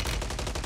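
An MCW submachine gun fires in Call of Duty Warzone: one close, loud burst of rapid shots, about ten per second, for under a second.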